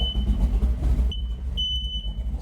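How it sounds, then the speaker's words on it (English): A garage smoke alarm sounds high, piercing beeps over a loud low rumble from a running engine, with the engine noise dropping out between beeps. "Smoke alarm's going off."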